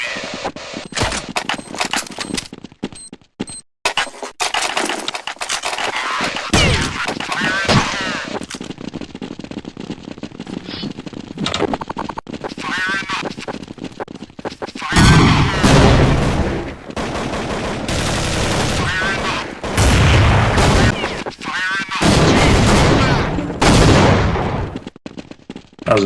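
Counter-Strike 1.6 gunfire: loud, dense bursts of automatic fire and single shots crack almost without pause over nearly half a minute of match action.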